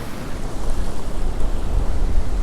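Ocean waves and wind rush steadily around a fishing boat in a bream fishing tournament, a dense loud wash with heavy microphone wind buffeting throughout.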